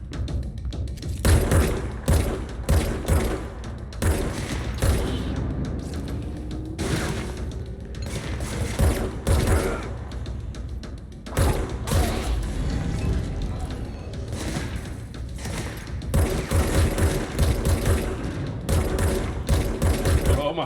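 Gunfire in the video game Control played on an Xbox Series S: repeated bursts of rapid shots with heavy thuds and booms that come in clusters, recurring over an ongoing game soundscape.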